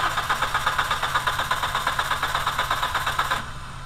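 A VW A3 with a 2.0L ABA engine cranks over steadily for several seconds, a loud, rhythmic starter-driven churn with even pulses that drops off abruptly near the end.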